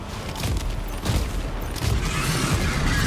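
Dense, rumbling gunfire from the player's weapon in the video game Death Stranding 2, a continuous barrage of heavy shots with booming low end and mechanical clatter, loud and steady throughout.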